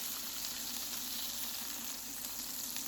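An Iceland Big Daddy sirloin steak, freshly flipped in a hot pan, sizzles steadily and loudly, with a close, even frying hiss that holds throughout and no voices.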